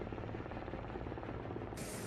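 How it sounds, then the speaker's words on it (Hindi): A helicopter drones steadily up close as it comes down to land, its dense rotor and engine roar constant and loud throughout. "आसमान में हवा को चीरकर जमीन पर उतरता ये हेलीकॉप्टर"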